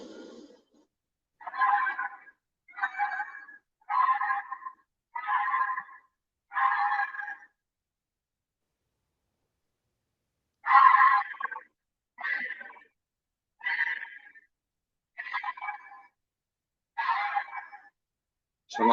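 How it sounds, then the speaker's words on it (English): A purported Wampus cat recording plays a series of about ten harsh, strained yowling cries in two groups, each call short and evenly spaced, with a long silent gap between the groups. "I found some recordings of the Wampus cat."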